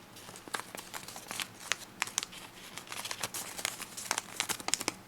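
Paper is folded by hand for an origami spinning top, giving quiet, close, irregular crinkles and crisp creasing rustles in quick bursts.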